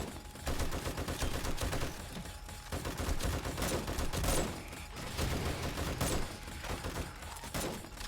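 Automated turrets in 7 Days to Die rattle off dense, rapid volleys at zombies, steady overlapping bursts with brief dips, loud and close throughout with almost no talk.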